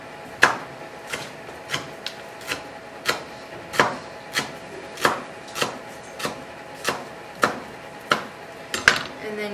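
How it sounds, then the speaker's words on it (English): A knife slices thinly through a stack of rolled-up basil leaves on a cutting board, giving a steady run of crisp, evenly spaced chops close by, about fourteen cuts with no talk over them. "you stack them, and you roll them like a little tortilla, like so. And then you just slice them really thin"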